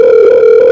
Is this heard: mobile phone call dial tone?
yes